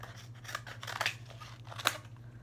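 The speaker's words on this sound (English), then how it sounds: "I can always cut off extra pieces" Scissors snip through construction paper in a few crisp, close cuts over a low steady hum, with no voices.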